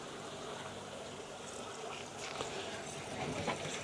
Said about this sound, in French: ça cascade dans le réservoir. Alors dans le réservoir, ça tombe d'assez haut